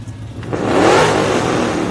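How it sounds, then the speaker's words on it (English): Modern Mopar car engines rev loudly at close range during an Independence Day parade in Arlington, a mid-pitched roar that swells and then holds as the cars pass. "And you can hear the engines."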